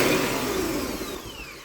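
A Hyundai 2.5L engine with a hard-start fault and a bypassed neutral safety circuit, its starter cranking with a steady, dense mechanical whir that slowly fades, heard close up with no talking.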